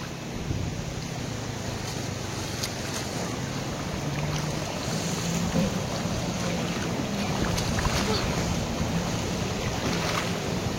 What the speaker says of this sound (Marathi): आले लाट आली